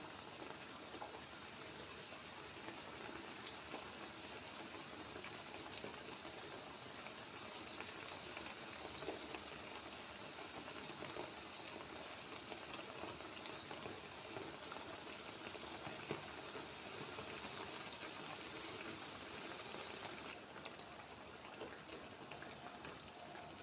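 Eggless, yeast-free Turkish pişi dough fries in oil in a pan with a soft, steady sizzle, a continuous fine hiss flecked with tiny pops, faint and even throughout with no talking.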